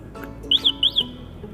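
Electric bicycle alarm sounding as the ignition is switched on, a few quick high-pitched electronic chirps close by over a low background hum.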